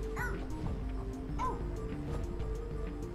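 The stretchy noodle dog in the game Phogs gives a few short, high yips and barks over a busy, steady game backdrop.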